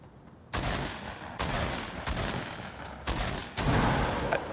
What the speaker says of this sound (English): I might be shooting at an alien. I can't tell now. No, that's a real dude. Got him.